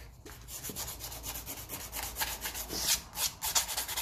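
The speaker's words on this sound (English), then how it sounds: "we'll give this end a quick rub as well, in case he feels left out." The end of a Lucas dynamo from a 1954 Ferguson TE20 TEF diesel tractor is rubbed down by hand with an abrasive. It gives a close, continuous rasping scrub in uneven strokes that grow louder toward the end, with no voices.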